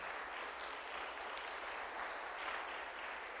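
A church congregation claps at an Easter Sunday service, dense steady applause from many hands that holds evenly for several seconds, with no voices over it.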